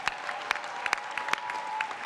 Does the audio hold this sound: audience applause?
yes